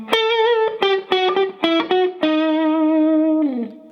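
An electric guitar with a driven, effected tone plays the descending line of The Munsters theme: a run of distinct, sustained notes stepping downward, close and loud, ending on one long held note.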